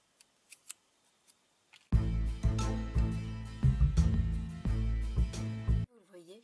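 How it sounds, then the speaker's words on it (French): Scissors snipping through gold paper foliage to cut it in half, a few faint snips followed by sustained louder cutting over a steady background with layered tones, no talk. "je vais le couper au niveau du centre pour n'obtenir qu'un seul feuillage"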